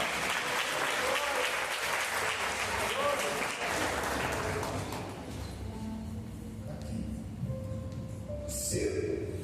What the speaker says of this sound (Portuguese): aplauda o Senhor pela terra